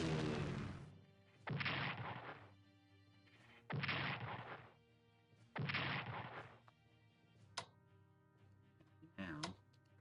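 Heavy artillery fire in a strategy game: four loud, long booming blasts spaced a couple of seconds apart, followed by two sharper, shorter cracks, with no talk over them.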